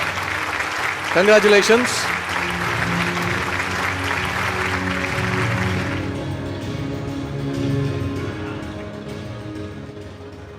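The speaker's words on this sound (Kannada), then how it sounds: "ಬನ್ನಿ ಚಪ್ಪಾಳೆ." An audience claps for lyric writer Chethan Kumar at the Chittara Star Awards 2024. Dense applause runs for about six seconds, a voice speaks briefly near the start, and the clapping then fades beneath a lower, sustained background.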